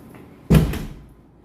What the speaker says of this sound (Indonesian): Ini pintu bisa dengan jari saya, atau kalau kamu masuk pakai tempel kartu hijau, buka.